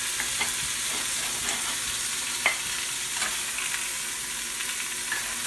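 Beef short ribs sear in a pan with a steady, soft sizzle and faint crackles, a few small pops standing out against the continuous hiss, with no voices.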